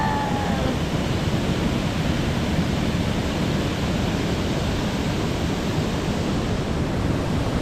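Waterfall gushing at Kulen Mountain near Siem Reap, Cambodia, a loud, dense, continuous roar of falling water that fills the whole clip with no letup and no voices.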